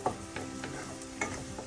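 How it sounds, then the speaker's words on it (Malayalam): Soaked pepper being stirred into a Kollam-style mackerel pepper curry in a pan, with a spoon scraping in a few distinct strokes over a steady soft sizzle of frying. "കുരുമുളക് പൊടി എല്ലാം കൂടെ ഒന്ന് നല്ലതുപോലെ മിക്സ് ചെയ്യാം."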